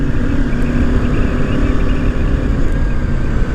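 On a winding Konkan ghat road, a bike's engine hums continuously up close beneath heavy wind buffeting, an even, unbroken ride noise with no speech.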